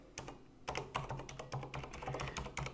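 Rapid, close keystrokes on a computer keyboard while someone copies and pastes code, with clicks running steadily in irregular bursts throughout.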